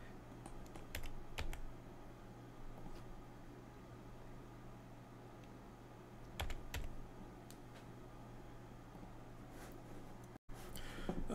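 Scattered bursts of keyboard typing, a few quick keystrokes at a time, over a steady low hum of room noise.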